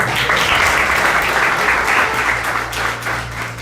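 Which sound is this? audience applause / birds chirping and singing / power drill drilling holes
audience applause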